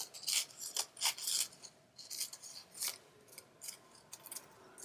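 Scissors snip through a paper doily in a series of short, crisp cuts close up, each sharp rasping snip separated by brief pauses.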